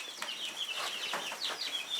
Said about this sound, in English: 20 little chickens enjoying their new home.